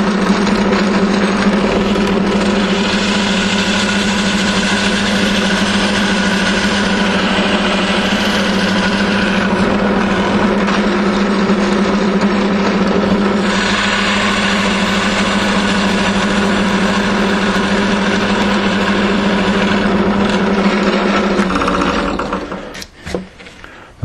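A power drill with a 12 millimeter bit runs continuously with a steady, high motor whine for about twenty seconds, then winds down and stops.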